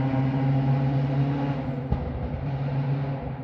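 A loud car engine drones and revs at a distance, a continuous rumbling hum with a brief swell partway through and no talk.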